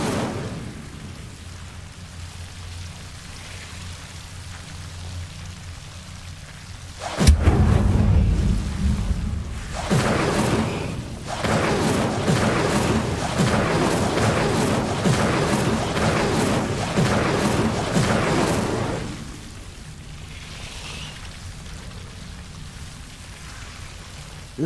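A fire spell cast in the PC game Hogwarts Legacy erupts with a sudden boom, then a loud, steady roar of flames crackles for about twelve seconds before fading back to quiet ambience.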